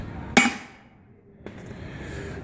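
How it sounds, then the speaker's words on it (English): Hammer striking a tool to seat a brake hub seal on an International truck: one sharp metallic strike, then a softer second tap after a pause, in a quiet workshop. "I'm going to basically hit this with a hammer until I hear its seat."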